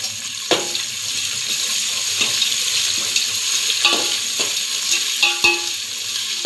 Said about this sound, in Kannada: ಎಣ್ಣೆ ನೀಟಾಗಿ ಇದು ಫ್ರೈ ಆಗ್ಬೇಕು ರೀ